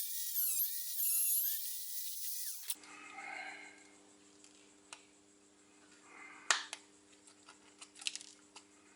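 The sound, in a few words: cutting a section out of a plasma rifle prop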